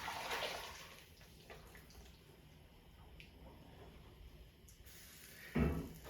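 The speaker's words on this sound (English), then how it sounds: "I'm going to take the liquid and carefully pour it over the corned beef in the crock" Hot cooking liquid is poured over corned beef in a crock, making a faint, steady watery pour in a quiet kitchen, with a brief louder splash near the end.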